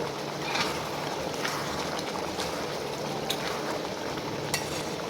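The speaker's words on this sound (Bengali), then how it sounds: "এবার আমি আর কেটে রাখা ধনে কুচিটাও আমি দিয়ে দিচ্ছি দেওয়ার পরে একটু নাড়িয়ে নেবো" Bengali chicken curry with chopped coriander sizzles and bubbles in a pan, a dense, even frying hiss with faint stirring scrapes throughout.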